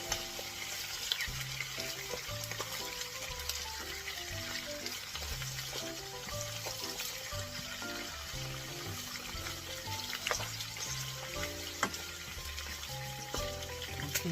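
Chicharron pork skin frying over medium-high heat until crisp, a constant dense crackle and sizzle of oil running throughout with faint background music and no speech.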